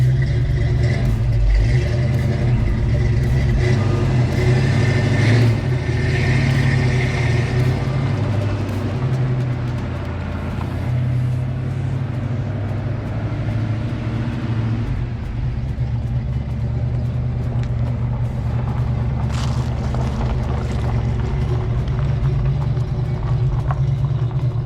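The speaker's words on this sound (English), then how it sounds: "Listen to that carburetor." A 1982 Ford Mustang GT Fox Body with a carbureted engine runs close by, a loud, steady low rumble with slight swells in intensity, idling without pause and no talk.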